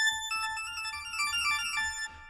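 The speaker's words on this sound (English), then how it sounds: "Kind of a cool organ sound." Organ-like synth patch from the Harmor synthesizer for a lead in a song, a steady sustained organ tone with a soft pulsing low rhythm underneath, fairly quiet, fading out after about two seconds.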